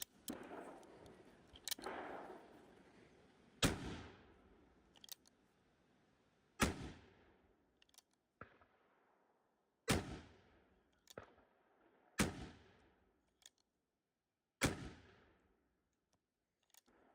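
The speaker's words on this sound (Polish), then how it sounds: "zapraszam Was do zobaczenia, jak ten rewolwer strzela" Hege-Uberti Remington 1858 black powder revolver fired in a series of sharp, loud reports, about seven shots at irregular intervals several seconds apart, each followed by a decaying ring, with quieter clicks and handling noises between.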